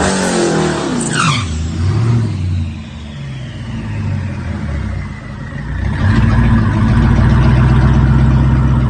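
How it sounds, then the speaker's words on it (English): A green Dodge Hellcat with a pulley upgrade and tune accelerates hard down a drag strip, its loud engine roaring and rising in pitch through gear changes, close and sustained with no talk. "Did you get a video of the green car going down the track?"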